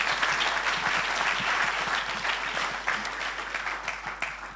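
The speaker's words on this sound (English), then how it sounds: "I think they have another round of applause" Sustained applause from an audience at a fireside chat event, dense and steady throughout with a broad wash of clapping, no voices over it.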